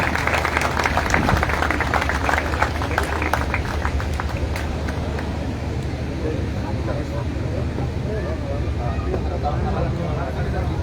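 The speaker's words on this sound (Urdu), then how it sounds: "سب ایک بھرپور تالیاں پرویز بھائی کے لیے" An audience claps loudly and continuously for Parvez at a birthday gathering during a charity event in Khora Khel, a dense sustained applause with voices mixed in throughout.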